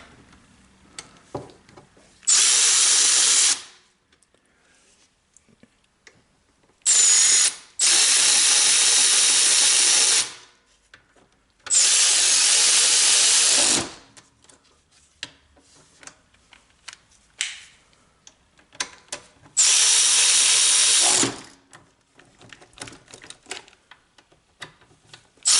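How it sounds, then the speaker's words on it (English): A pneumatic impact wrench zips bolts onto a pressure washer pump head during a leak repair, firing five loud, hissing bursts of a second or two each, separated by quiet gaps with faint clicks and handling noises. "And then I'll zip them on there with the wrench."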